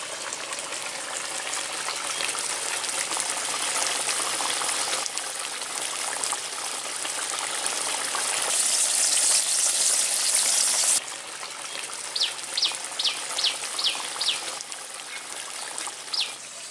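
Tel koi fish frying in oil in a pan over a village fire gives a steady, close hiss and sizzle that carries throughout, with faint bird chirps in the background toward the end.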